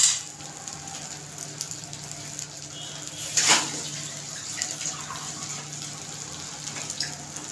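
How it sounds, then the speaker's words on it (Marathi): Water is poured into a cooking pot of masala rice on a home stove, giving a brief splashing gush partway through a quiet kitchen hum. "आणि याच्यामध्ये पाणी टाकते"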